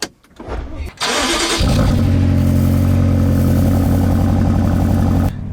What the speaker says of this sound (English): X6M cold start, ready?